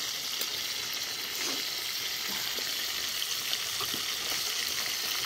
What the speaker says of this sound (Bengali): তেলের মধ্যে দিয়ে দেবো গোটা জিরে, তেজপাতা